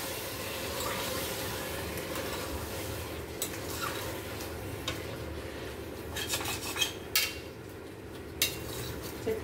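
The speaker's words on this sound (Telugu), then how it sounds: "చికెన్ అంతా ఈ ఆయిల్లో ఫ్రై చేసుకోవాలి." Chicken fries in oil inside a steel cooker while a spoon scrapes and clinks against the metal, giving a steady sizzle with sharper stirring knocks growing more frequent toward the end.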